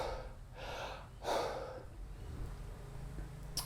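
Deep Wim Hof method breathing: a few forceful inhales and exhales close to the microphone, with one sharp gasping breath standing out among softer breaths.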